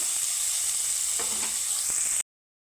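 Paneer fries in hot oil in a pan until reddish, giving a loud, steady, close sizzle with faint scraping near the end before it cuts off.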